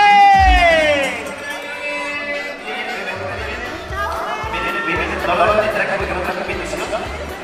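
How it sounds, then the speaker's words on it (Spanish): A crowd cheering, whooping and clapping at a quinceañera party, loud and lively with shouts rising above the mix and people talking through it. "¡Y el aplauso que se escuche!"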